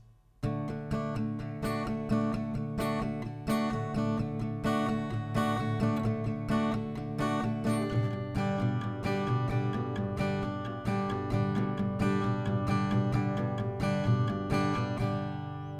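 Steady acoustic guitar strumming repeats a rhythmic chord pattern on D, then changes to G partway through, bright and close, with no voices.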